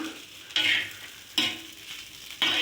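Curry leaves are sprinkled into a tomato dish frying in a pan, sending up three short bursts of bright crackling sizzle over a soft, steady frying hiss, close and quiet with no talking.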